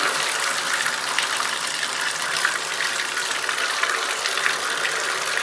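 Water running from an opened shower valve to release held pressure during a shower valve replacement, a steady hissing gush that stays loud and even throughout, with no talk.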